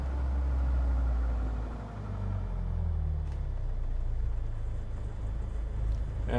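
The engine of a Diamond DA40 aircraft idles at low throttle, a steady low rumbling drone with a slight dip and settling in pitch, continuous and fairly close, with no voices.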